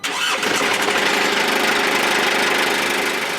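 A camper van engine cranks and settles into a loud, rough, rumbling idle with a broken exhaust hanging off, the raspy drone close and continuous throughout.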